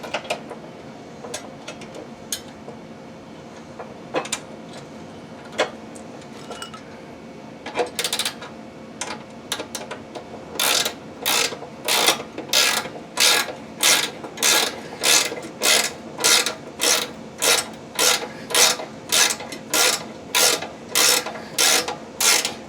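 A bolt is forced into a tight, unthreaded hole during a mulch kit install on a Ferris FW15 mower. Irregular ratchet clicks come first, then a fast, loud, regular ratcheting run of repeated bursts. There is no talking.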